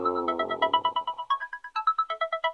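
A phone ringtone plays nearby, a bright electronic melody of short repeated beeping notes in a quick steady rhythm, loud and alone for a couple of seconds.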